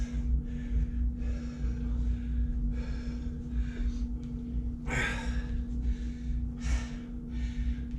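Heavy, winded breathing after a leg workout in a gym, with repeated gasps and sighs and a sharp breath near the middle and near the end, over a steady low hum.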